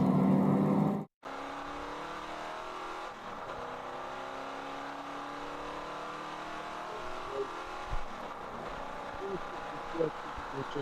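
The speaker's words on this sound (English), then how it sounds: "This Camaro coming down the back street, going into braking for Oak Tree." Chevrolet Camaro endurance race car braking into the Oak Tree turn on the VIR South course, engine note dropping and fading after a sharp cut, with someone commentating over it.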